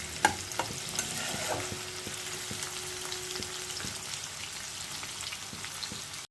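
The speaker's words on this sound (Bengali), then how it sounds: "পেঁয়াজটা একটু লাল লাল করে ভাজা হোক, আর চিনি দিয়েছি তো চট করে লাল হয়ে যাবে।" Sliced onion with a little sugar sizzles in a pan, a soft continuous frying crackle with occasional stirring clicks of a spatula, heard alone without talk.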